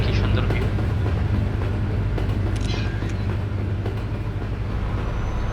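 A train runs alongside the road in Euro Truck Simulator 2, a steady loud rumble of rolling wagons and engine drone under continuous traffic noise, with faint higher squeals drifting over the top.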